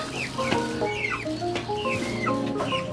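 Several chickens cluck and squawk close by in overlapping bursts as they are fed termites, with a steady low hum running underneath.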